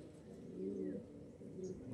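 A racing pigeon fitted with a GPS tracker, Taiwanese and embroidered-feathered, coos softly while held in a hand, with low murmuring coos rising and falling over about two seconds, close to the microphone.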